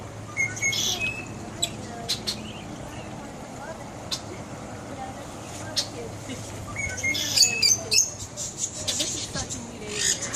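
Birds chirp in a cage at a sheriff's animal farm, scattered high tweets over a low steady hum, moderate and somewhat distant, with some sharper calls and clicks toward the end.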